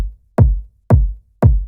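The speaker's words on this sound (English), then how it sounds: "this kick sounds like this" A punchy electronic kick drum from the beat of a track hits three times in a steady rhythm, each a deep booming thump with a quick attack and short decay, loud and alone.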